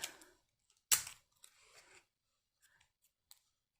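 A piece of plain Scotch tape is handled while making a doll's purse, with a sharp crinkly snap and a few soft rubbing, peeling rustles, close and sparse with quiet gaps.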